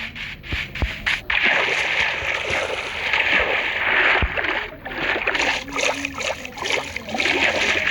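A Minecraft character splashes into water: continuous sloshing and watery churning, fairly loud and close, with a few dull thumps early on.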